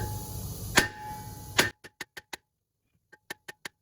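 Hammer blows ring against the rear brake rotor of a 2010 Dodge Challenger SRT8 being knocked loose: two heavy strikes over background noise, then a rapid series of sharp metallic taps.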